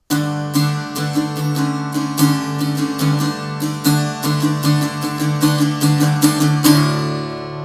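An electric guitar strums a rhythmic chord pattern from the intro of a song, ending on a final chord left to ring and fade, with no talking.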